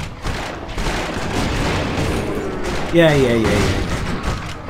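Gunfire while fighting enemies in the video game Torchlight II, with steady rapid shots and thuds throughout, a brief spell-like chirping burst near three seconds, and someone speaking briefly over the combat.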